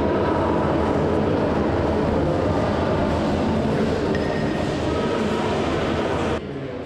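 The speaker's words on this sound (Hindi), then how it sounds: "this here is the train station" A train rumbles continuously and loudly at a railway station in Ukraine, a dense, steady roar with faint high metallic tones, dropping off slightly near the end.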